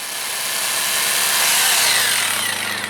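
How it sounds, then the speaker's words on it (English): A drill bores an anchor hole into rock outdoors, a loud continuous grinding whine that builds slightly in intensity and holds steady for a few seconds. "Now you can drill your anchor on the rock you're blasting"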